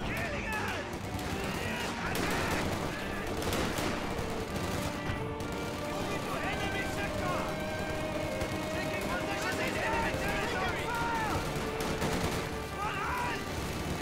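Battle noise from the World War II strategy game Company of Heroes 2 on the Moscow outskirts, with a machine gun crew firing. Continuous distant gunfire and explosions form a dense din, with voices talking over it throughout.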